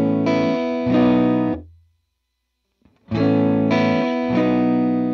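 Electric guitar played through a Line 6 Pod Go, two bright distorted chords ringing out and fading, a short silence, then two more strummed chords, loud and close with no talking.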